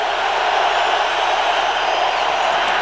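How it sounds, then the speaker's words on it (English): Steady roar of a large football stadium crowd at the 2001 AFC Championship Game, Patriots against Steelers, a dense continuous wash of voices holding at an even, loud level throughout. "Crowd noise."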